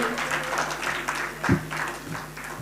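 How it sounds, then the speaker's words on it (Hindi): Applause from the audience at an education event session, with steady, moderately loud clapping from a sizable crowd throughout and a few sharper individual claps standing out. "जोरदार तालियां इनके लिए भी।"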